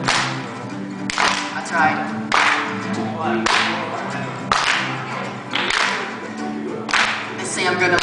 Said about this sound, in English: Clap your hands, everybody, come on, let's do it.